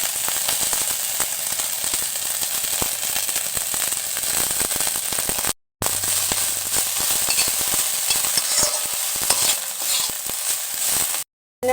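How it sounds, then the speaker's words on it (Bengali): Coriander leaves frying in a hot pan crackle and sizzle loudly and continuously, with dense sputtering pops and two short breaks in the sound. "আমরা ধনিয়া পাতাটা একটু হালকা ভাজা নিব"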